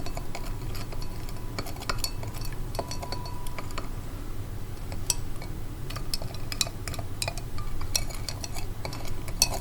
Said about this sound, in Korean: 차가운 물도 다시 저어 보도록 할게요.